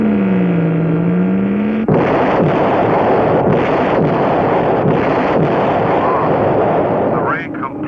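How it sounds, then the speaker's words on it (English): A sci-fi light ray weapon blasts an asteroid in a 1963 drama, a falling electronic whine giving way to a loud roaring, rumbling burst with pulsing surges, a warbling tone near the end. "The ray completely powdered that asteroid."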